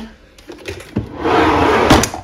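The last drawer of a makeup storage unit, holding skincare products, slides open close by: a light knock, then a short rough scraping glide that ends with a soft bump.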